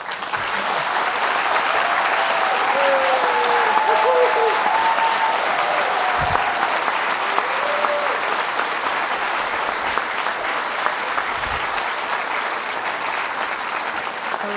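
A debate audience at a New York Times event claps to vote for the side arguing for the motion. The applause is a dense, steady wash that fills nearly fifteen seconds at even strength, with a few voices faintly mixed in.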